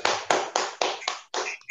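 An audience at an HR training session claps, forming six quick, loud bursts of applause in a steady rhythm, each fading briefly before the next.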